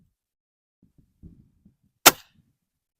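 A single sharp, loud crack from a Barra 1200 dual-caliber pellet airgun fired at a target bench, preceded by faint shuffling and handling noises, with no talking.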